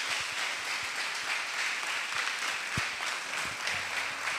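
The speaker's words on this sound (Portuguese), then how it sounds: "Dá um aplauso a Jesus aí." Applause from a church congregation fills the space, a steady wash of many hands clapping at moderate distance throughout, with no talk over it.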